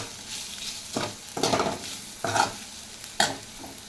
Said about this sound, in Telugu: యాడ్ చేసి మనము మసాలాలు మొత్తము బాగా ఈ బోటీకి పట్టేంత వరకు మనము వేయించుకోవాలండి.